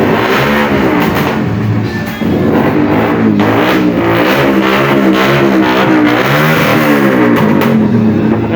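A motorcycle engine revs steadily and loudly up close, with repeated throttle swells and a brief dip near the two-second mark, running alone without any talk.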